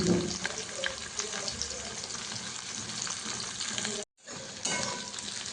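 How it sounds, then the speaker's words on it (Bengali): Chopped onion, one large one, frying in hot oil in a pan for a prawn and drumstick-stalk chorchori, with a steady close sizzle and some stirring throughout, briefly cut off near the end. "পেঁয়াজটা একটু হালকা ভাজা হয়ে আসছে"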